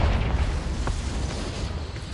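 A Confringo spell explosion in Hogwarts Legacy: a deep, rumbling blast with a brief sharp crack near the middle, then a low lingering roar that fades slowly; no voices over it.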